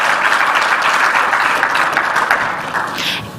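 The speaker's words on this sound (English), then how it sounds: "join me in giving a warm round of applause to our founders" Warm applause from the audience at the launch of the Africa School of Governance, a full steady round of clapping that tapers a little toward the end of a few seconds, with no speech over it.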